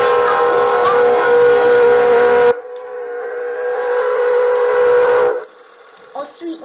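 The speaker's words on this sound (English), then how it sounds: "The train's coming." A train in the Roblox game sounds a long, steady whistle that runs loud for several seconds, drops off, swells again, then cuts out, with brief faint noises trailing at the end.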